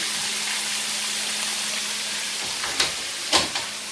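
Pork chops frying in a pan for crispy fried pork chops, a steady broad sizzle and hiss running throughout with a low hum, and a couple of brief clatters or pops near the end.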